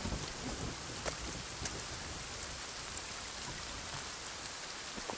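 Steady rain falls in the Sons Of The Forest game world, a dense even hiss of drops with occasional sharper patters and faint wind, soft and continuous with no talking.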